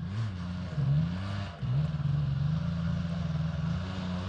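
A Kawasaki KX 85 dirt bike approaching on a rough trail, its engine droning and revving steadily with rising and falling pitch, a brief dip midway, growing slightly louder as it nears.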